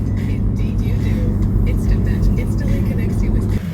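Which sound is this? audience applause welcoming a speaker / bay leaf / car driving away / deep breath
car driving away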